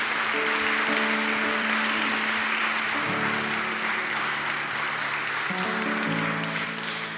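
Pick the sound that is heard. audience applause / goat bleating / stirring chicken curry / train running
audience applause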